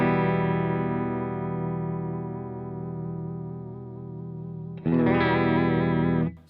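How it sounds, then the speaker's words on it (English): Electric guitar through a Truetone V3 H20 pedal set to vibrato, a long sustained chord wavering in pitch and slowly fading, then a second chord struck loudly near the end. "So it's a great sounding vibrato circuit."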